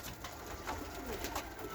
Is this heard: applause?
no